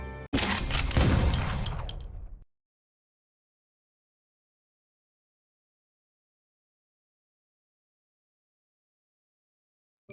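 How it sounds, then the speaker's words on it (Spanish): A gunshot from the film The Hateful Eight: one loud, broadband blast with a short echoing decay that cuts to silence after about two seconds. "Y de repente, en una conversación, un disparo."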